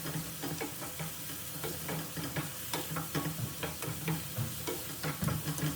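Grated carrot, spices and vegetables fry in a pan with a steady sizzle, while a utensil stirs and scrapes in frequent small clicks, close and continuous without any talk.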